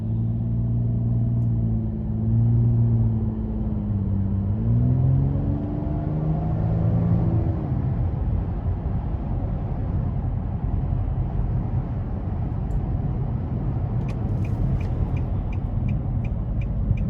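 A 2022 Nissan Maxima SR rolling slowly into a parking lot, heard from inside the cabin as a steady low engine and road rumble, with the engine note shifting as it slows and a few faint clicks near the end.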